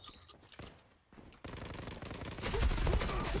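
Gunfire in a shooter game, faint scattered shots at first, then a steady automatic burst that swells louder and denser toward the end, with brief talk in the background.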